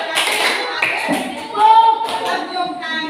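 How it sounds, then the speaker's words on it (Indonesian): A classroom of students claps hands in a short, scattered burst during a concentration game, mixed with children's voices and shuffling, fairly close and loud. "tepuk tangan"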